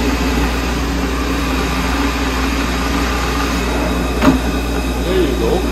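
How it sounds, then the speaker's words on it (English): A car engine runs steadily with a freshly assembled J-type overdrive gearbox, a constant low drone with one brief clunk as a gear is shifted partway through. "So you should be able to switch gears without turning off the motor."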